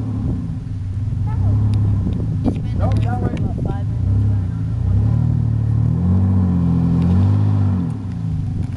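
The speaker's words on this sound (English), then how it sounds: "You watch this tire to go around that rock." An off-road vehicle creeps over rocks on the Moon Rocks trail, its engine rumbling and rising in pitch as it climbs, while people talk over the motor.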